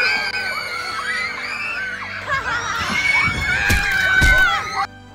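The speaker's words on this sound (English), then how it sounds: "these children are just screaming bloody murder" A crowd of excited children screams and shrieks loudly and without a break at a gig in Los Angeles, greeting a performer in a Kraken costume, with high piercing voices overlapping until the noise cuts off abruptly.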